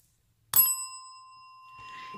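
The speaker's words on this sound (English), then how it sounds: "So, where's the bell, Pam?" A single small bell gives one bright, clear ding from close by, and its pure ringing tone fades slowly as faint voices begin underneath.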